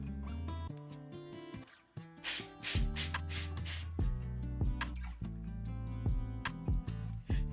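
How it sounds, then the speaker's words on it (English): An aerosol can of Apple Guard sprays onto Vachetta leather in a few hissing bursts, with loud steady tonal sounds running underneath. "I just spray."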